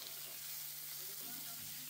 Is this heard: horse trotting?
no